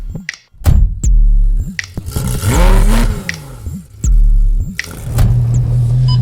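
A Porsche GT3 RS engine roars under hard acceleration, with loud, close revs climbing in pitch. Sharp thunks and brief drops between pulls sound like gear changes.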